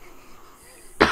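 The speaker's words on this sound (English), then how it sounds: "Okay, I actually have to really cough now." A person, sick, gives a single sharp cough at the very end after a moment of near quiet.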